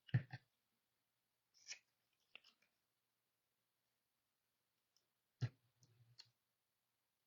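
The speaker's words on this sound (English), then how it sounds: "I'm just trimming my tails in silence" Scissors trimming the tails of a ribbon, a few sparse, quiet snips and clicks separated by long pauses of near silence, close but faint.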